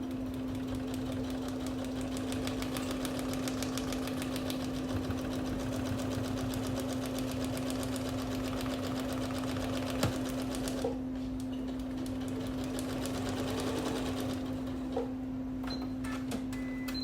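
Sewing machine stitching a quilt block, running as a steady, continuous mechanical whir with a faint rapid needle rhythm throughout, a brief pause near the end, and no talking.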